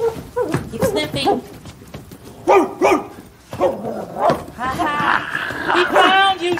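Barkley the bloodhound barks and yips repeatedly at close range, loud and in uneven bursts, mixed with voices talking over and between the barks.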